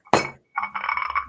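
San Pellegrino sparkling water with lemon and lime goes into a glass: one bright clink, then a close, crackling fizz of bubbles that rises and carries on with no talking.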